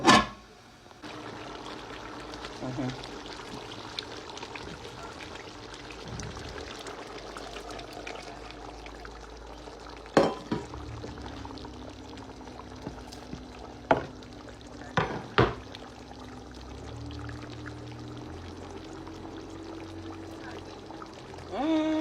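About half a glass of water is poured into a pot of meat cooking for a Ramadan meal, giving a steady wash of sizzling, pouring and stirring with a few sharp knocks, with no talk.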